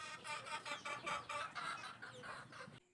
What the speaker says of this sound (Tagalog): Ang mga baby pullets na ito ay anak ng aming Golden Boy Gilmore Broodhen.